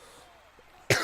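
A single sharp, close cough bursts out at the end after a moment of near quiet, loud and raspy against a faint background.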